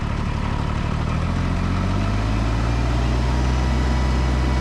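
A Kubota BX compact tractor engine runs at high RPM while snow blowing outdoors, a loud, steady droning roar with its pitch rising slightly as it revs, with no talk.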